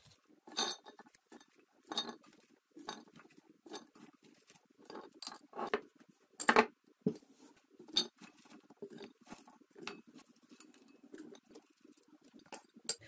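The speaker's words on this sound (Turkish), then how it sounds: "Şimdi bunu kavanoza dolduruyorum." Hawthorn berries poured into a washed and dried 8-litre glass jar, a busy run of small clinks and rattling patter in irregular bursts, close and moderately loud with no talking.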